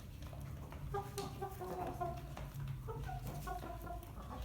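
Hens cluck in short, repeated calls over a steady low farmyard hum, several birds overlapping at close range throughout.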